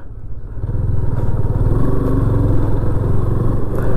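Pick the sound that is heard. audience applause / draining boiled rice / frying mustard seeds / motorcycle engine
motorcycle engine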